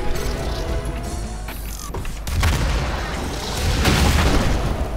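Rocket launcher firing and blasting in Doom 2016, dense booming explosions and rumbling mechanical noise, loud and continuous throughout.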